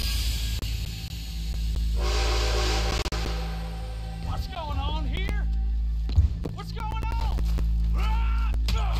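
A steam train whistle in Red Dead Redemption 2 gives a sustained, loud blast over a constant locomotive hiss and rumble, then voices talk over the ongoing train noise.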